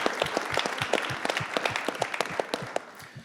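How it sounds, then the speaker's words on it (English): Audience applause for speaker Nick at a fire-code event on battery energy storage safety in New York City, a steady burst of many hands clapping with sharp individual claps standing out, filling the room without speech. "Please give Nick a loud round of applause"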